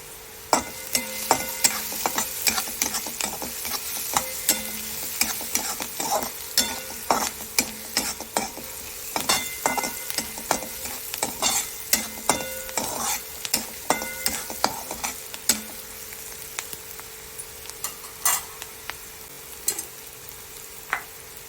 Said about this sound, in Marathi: छान परतवून घ्यायचं आहे हळद घालायची त्यात